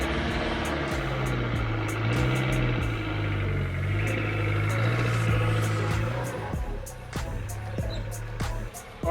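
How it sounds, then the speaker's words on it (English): A Daihatsu Charade left running on ramps, its engine idling in a steady low hum that stays constant, with a faint rattle and a few clicks near the end. "as you can probably hear, I've left the car running"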